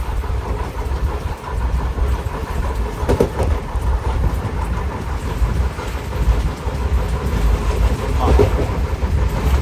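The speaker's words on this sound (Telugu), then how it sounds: "ఇక్కడ కొంచెం ట్రైన్ స్పీడ్గానే పోతుంది" The Repalle Express (17645, Secunderabad to Repalle) runs fast along a long stretch of track, heard from inside as a steady loud rumble with rhythmic wheel clatter throughout.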